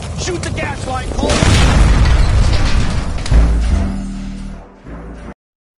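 A gas line blows up in the video game L.A. Noire, a loud, close boom that swells into a roaring, rumbling blast lasting several seconds before cutting off.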